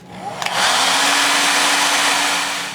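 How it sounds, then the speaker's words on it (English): A hair dryer switches on with a brief click and blows steadily and loudly on sticker adhesive, a continuous high whooshing hum close to the microphone. "try with a hairdryer and heat up the adhesive and peel it off"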